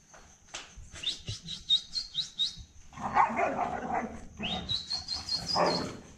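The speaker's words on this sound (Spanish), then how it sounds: "Pero tus perros se ponen muy inquietos" Restless dogs at a ranch explored as haunted bark and whine in short, uneven bursts, with birds chirping in the background.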